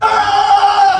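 A human voice mimics a chimpanzee's alarm call warning of an approaching lion with one loud, strained, high-pitched cry held for about a second, close and alone.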